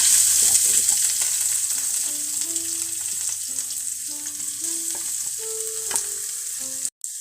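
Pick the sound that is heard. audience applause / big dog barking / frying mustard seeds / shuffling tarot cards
frying mustard seeds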